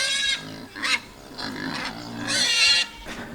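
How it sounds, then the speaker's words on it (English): Distressed goats on a farm homestead calling out in several loud, strained bleats spaced across a few seconds, close by with no talking over them. "I hear the goats. They sound very distressed."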